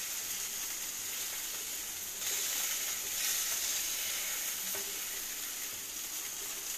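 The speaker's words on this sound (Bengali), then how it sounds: "এখানে এই যে ভাজা হচ্ছে মাথা, লেজা, এসব মাছগুলো তুলে নেওয়া হচ্ছে ভেজে" Fish heads and tails fry in hot oil with a steady, close crackling sizzle that swells slightly partway through, with no voices over it.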